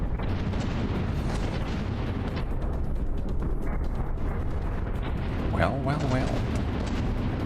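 Underwater battleship cannons fire in the From the Depths naval combat game, heard as a dense, rumbling barrage of muffled booms and bursts. A voice speaks briefly over it.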